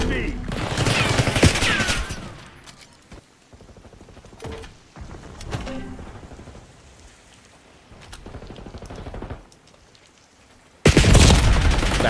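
Bursts of rapid gunfire crackle in a Call of Duty esports match, loud clusters at the start and end with scattered shots between, while a voice talks over the action.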